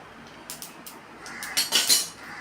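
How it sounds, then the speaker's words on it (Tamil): Mustard seeds spluttering and popping in hot oil in a pan while cooking vegetable Maggi noodles, a run of sharp crackles that grows busier and louder toward the end. "அந்த கடுகு பொரியுற சத்தம் உங்களுக்கு கேட்குதா?"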